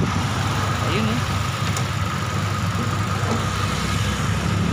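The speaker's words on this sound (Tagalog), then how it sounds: "napakatahimik po ng makina. Ayan, umaandar po yan." A Honda City i-DSI with automatic transmission idles with a quiet, steady low hum throughout, a faint continuous engine drone with no revving.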